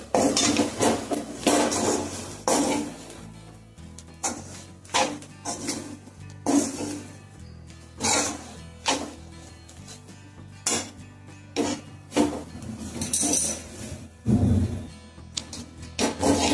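Chivdi greens being stirred in a metal pan, with repeated clanking scrapes of a spatula against the pan in an irregular rhythm, close and fairly loud, no talking.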